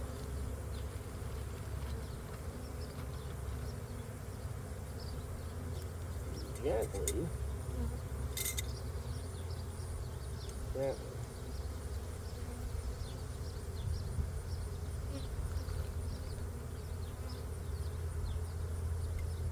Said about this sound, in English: now I have my bees in here with the powdered sugar